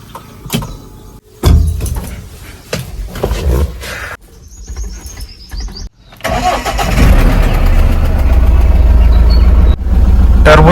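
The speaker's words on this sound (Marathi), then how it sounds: "टर्बो चार्ज इंजिन आहे मित्रांनो." A turbocharged pickup truck engine cranks and catches after a few knocks and clicks, then settles into a loud, steady idle close by.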